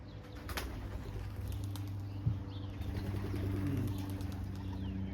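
Racing pigeons at a loft, mostly hens, coo softly with low murmuring calls, a few wing flaps and a sharp knock midway, against a quiet outdoor background.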